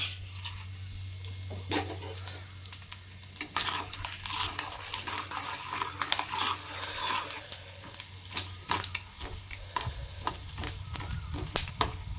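Mustard seeds, urad dal and fenugreek tempering in hot oil, with turmeric and asafoetida added for a mango pickle: crackling sizzle with sharp pops and spoon clatter, continuous and fairly close, no speech.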